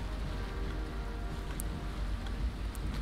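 Steady rain hissing and pattering in the video game Valheim, a dense, continuous wash of noise with low rumble beneath, fairly faint and alone.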